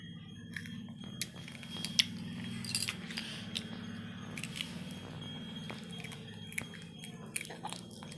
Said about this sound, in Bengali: কত সুন্দর চুপচাপ বসে খাবার খাচ্ছে